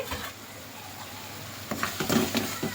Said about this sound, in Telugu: కారం ఉప్పు చక్కగా కలిసేలాగిన ఒకసారి కలుపుకొని మూత పెట్టుకుందాం